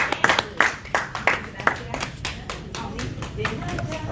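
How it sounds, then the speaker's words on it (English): Scattered applause at a Women's Veterans Day 2022 event for Director Jackie Reyes, a few nearby hands clapping unevenly at first and then thinning out, with voices murmuring underneath. "So give her a round of applause"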